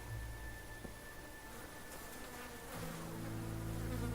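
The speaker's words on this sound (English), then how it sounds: "Can hear the flies floating around and stuff." Flies buzzing around a blood-soaked scene in the video game Kingdom Come: Deliverance, a faint continuous insect drone with wavering pitch over a low ambient hum, no voices.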